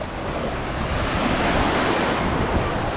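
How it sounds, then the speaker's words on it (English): Ocean waves wash steadily onto a beach on Oahu, Hawaii, a continuous broad surf roar with gusty wind buffeting the microphone and no voices. "Just got to the beach and Sarah's getting sucked out on her little"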